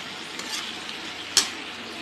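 Potatoes frying with cauliflower in a pan while being stirred, a steady low sizzle with a sharp utensil clink near the end, close by and alone.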